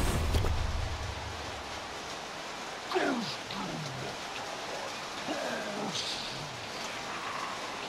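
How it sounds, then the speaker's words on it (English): Heavy rain in a football video game makes a steady, loud broadband hiss throughout, with faint voices or crowd-like tones drifting underneath. "rain sounds got crazy loud"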